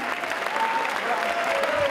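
A crowd applauds school rugby team delegations at a high school rugby tournament, with steady, dense clapping filling the whole stretch at an even level and a faint voice audible underneath.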